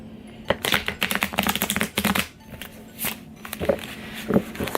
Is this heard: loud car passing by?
no